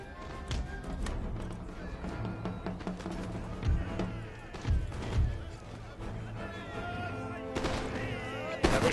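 Scattered gunfire pops and bursts crackle through a busy battle in Empire: Total War, irregular shots near and far over a continuous rumbling background.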